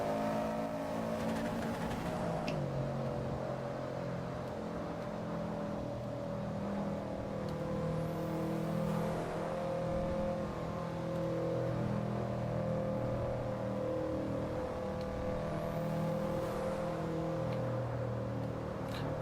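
A car in the No Hesi driving game weaves through heavy Japanese rush-hour traffic, its engine a steady, loud drone that rises and falls with revving while other cars swish past.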